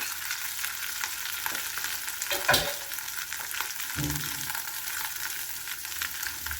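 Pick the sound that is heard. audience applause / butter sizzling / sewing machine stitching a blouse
butter sizzling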